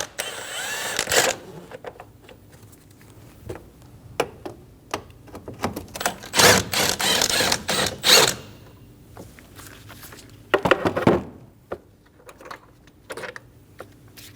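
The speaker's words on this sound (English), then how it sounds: "Using a 10mm socket, we're going to remove the two bolts for the ECU" A 10mm socket ratchet loosening ECU bolts on a 2012-2022 Volkswagen Passat, giving close, rapid clicking bursts and scrapes of metal in short irregular runs with quieter pauses between.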